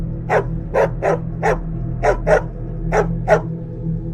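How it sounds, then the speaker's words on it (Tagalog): Dogs bark in a series of about nine sharp, loud barks at an uneven rhythm, fairly close, over a low background hum. "biglang tumahol ang lahat ng aso sa kalye"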